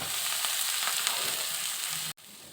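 Khesari greens sizzle steadily in a hot pan with dried chillies, a continuous broadband frying hiss that cuts out briefly near the end before resuming.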